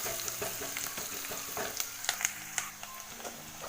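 Onions frying in a pan with steady broadband sizzle and crackle, occasional stirring clinks and scrapes, close and fairly loud, no talking.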